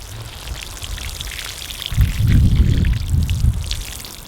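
Water pours steadily onto bean seedlings breaking through garden soil, a continuous close splashing hiss that swells louder and heavier partway through, with no voices.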